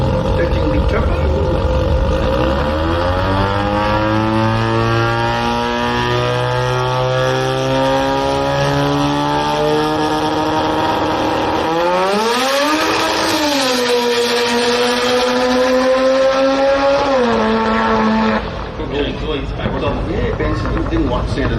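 A 13B turbo rotary drag car screams hard down the strip, revs climbing through the gears with sharp shifts, loud and close, then cutting off near the end under a commentator's voice.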